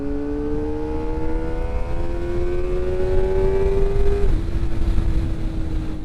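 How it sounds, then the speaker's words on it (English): Kawasaki Ninja ZX-4RR sport motorcycle engine in sixth gear, a loud, steady whining drone that climbs slowly in pitch over several seconds, then drops abruptly as it settles, heard close up over wind noise without talk. "If this bike had a full exhaust, I think it'd sound really, really good."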